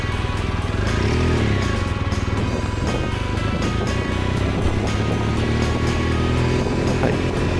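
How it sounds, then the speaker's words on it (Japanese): Strong wind buffets the microphone in a constant rough roar, with a BMW R1200GS Adventure motorcycle engine running underneath. "本日は風が強いので、ちょっとかなり風の音がかなり入っておりまして申し訳ございません"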